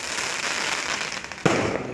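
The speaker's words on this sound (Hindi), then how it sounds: "ये रंग बिरंगी रोशनी और ये पटाखों की आवाज़ आ रही है" Firecrackers and fireworks going off at a wedding celebration: a continuous, dense crackle with one sharp, louder bang partway through, heard at moderate distance.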